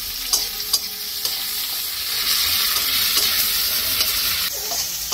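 Onion fries in hot oil in a pan, giving a constant loud sizzle and hiss, with a few sharp clinks and scrapes of stirring near the start and the end.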